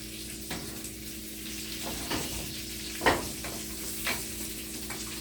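Beef filet and cod loin frying in caper brown butter with rosemary, a steady close sizzle with a few sharp pops and scraping clicks as pieces are flipped, no voices.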